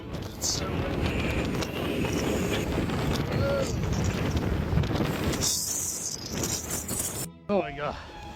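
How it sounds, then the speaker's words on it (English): Strong gusts batter the microphone on a Las Vegas mountain trail, a loud rumbling buffet that holds for several seconds before easing and then cutting out. "It's so windy."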